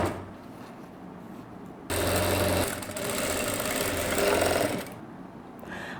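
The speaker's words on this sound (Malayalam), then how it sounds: "ഈ അരികിൽ കൂടി പതിപ്പിച്ച് അടിക്കാം." A domestic sewing machine runs in two steady bursts while stitching along the edge of a saree blouse, its fast motor whir and needle chatter close and loud, with quieter handling between runs.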